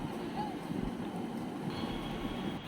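A crowded morning local train heading to Sealdah rumbles along in a steady low roar with wind noise, and faint murmuring voices sit underneath.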